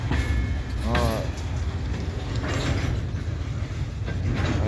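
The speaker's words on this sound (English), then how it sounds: "That's how long this train is." A long freight train rolls past nearby with a steady, loud rumble and rattling wagons, continuous for the whole stretch with a brief voice-like sound early on.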